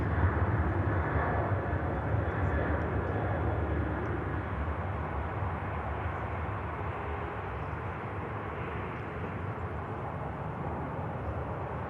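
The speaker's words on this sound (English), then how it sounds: "Next aircraft to arrive, Logan Air. Inbound from the Isle of Man." A Loganair aircraft inbound from the Isle of Man arrives at Manchester Airport, with a steady broad engine roar that holds at a moderate level throughout, no voices over it.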